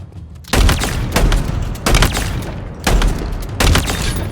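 A shotgun in Halo Infinite fires four heavy booming blasts, evenly spaced about a second apart, each with a short rumbling tail.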